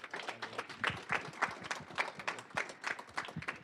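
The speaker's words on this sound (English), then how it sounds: "please give this sweet, sweet, supple man a round of applause." A small audience at a Linux lecture claps for the presenter, a faint, sparse patter of individual hand claps rather than a dense roar.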